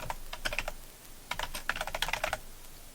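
Rapid clattering keystrokes on a computer keyboard during a Xubuntu installation from an SSD boot drive, coming in two quick bursts separated by a short pause, close and fairly quiet with no talking.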